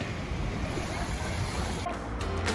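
Ocean waves wash steadily at a Maldives lagoon, a continuous broad surf rush with some wind noise and no clear individual crashes.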